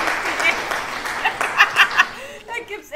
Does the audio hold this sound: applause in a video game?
yes